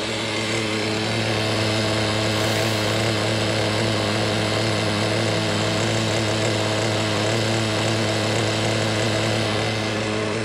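A Traxxas Jato 3.3 nitro RC car engine runs continuously at a steady high idle, a loud, close, raspy buzzing drone with no pauses and no talking.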